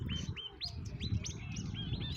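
Small birds by a riverside chirp in a quick run of bright, repeated rising notes, close and fairly clear over a steady low background rumble, with no voices.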